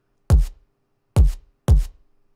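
Three deep synthesized drum and bass kick drums with added boom accentuation, each a hard attack and short low-end decay, the first two spaced wider apart and the last two closer together, alone with silence between.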